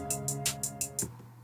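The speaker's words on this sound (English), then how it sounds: "the snares on every center of each bar" Programmed trap-style snare hits from a SoundTrap drum kit, about six bright, evenly spaced strikes over a faint sustained backing tone, all quiet and close.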